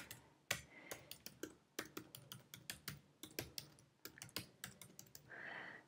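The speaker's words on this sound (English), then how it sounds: "And here we're typing our new domain." Someone types on a computer keyboard, a quick, irregular run of crisp clicking keystrokes close up, with short pauses between bursts and no voices.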